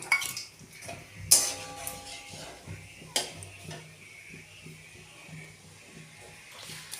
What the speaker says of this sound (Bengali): এই যে আমি কড়াইতে তেল দিয়েছি, তেলটা গরম হয়ে গেছে। এতে আমি গোটা গরম মশলা ফোড়ন দিচ্ছি।